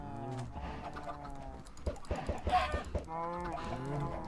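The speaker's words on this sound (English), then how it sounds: "Throw some chickens in here." Chickens clucking in a modded block-building video game farm, a run of close, soft clucks and short squawks in uneven bursts over a quiet background.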